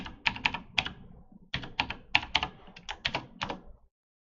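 Fingers typing a password on a computer keyboard, two quick bursts of crisp key clicks separated by a short pause, close and fairly quiet.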